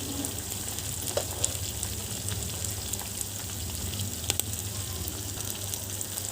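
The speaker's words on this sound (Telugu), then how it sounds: "ఇప్పుడు ఇందులో పచ్చిమిర్చి వేసుకుందాం." Green chilies fry in a pan of hot oil, giving a continuous soft hiss with occasional faint pops, moderately quiet and steady throughout.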